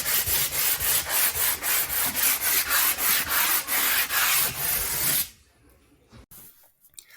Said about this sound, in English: We're going to start out by sanding the wall completely flat before we get started.